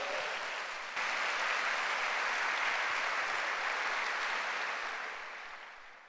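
Sustained applause from a church congregation at an El Shaddai churches congress, a dense wash of clapping that runs steadily for several seconds and tapers off toward the end.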